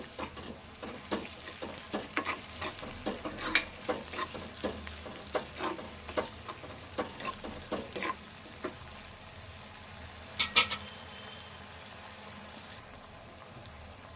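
Ginger garlic paste stirs and fries in a pan with eggplant, a soft steady sizzle broken by repeated scraping clicks of the spoon, fairly quiet and close.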